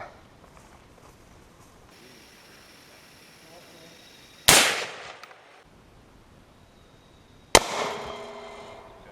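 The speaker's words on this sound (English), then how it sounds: "an M4 or an AR series weapon does to an Eastern Bloc helmet, we'll do it." An AR-series rifle fires .223 rounds at an East German M56/76 steel helmet outdoors, two loud, sharp single shots spaced a few seconds apart, each with a ringing decay, amid quiet ambience.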